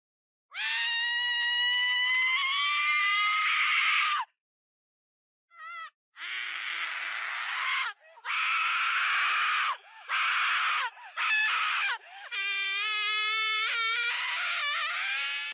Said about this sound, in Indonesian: Akan muncul juga suara jeritan perempuan yang tentu saja akan mengganggu telinga kalian.